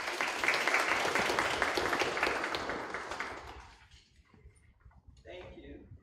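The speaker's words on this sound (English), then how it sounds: "let's give all of our board members a round of applause" Board members at a Southampton County Public Schools board meeting receive a round of applause, a dense crowd of claps filling the room for about three seconds before fading into quieter murmurs and a few stray sounds.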